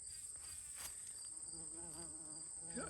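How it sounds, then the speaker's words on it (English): Faint buzzing of a bee working garden blossoms, with wavering wingbeat tones drifting in and out over steady high insect chirping outdoors. "There's a bee working the"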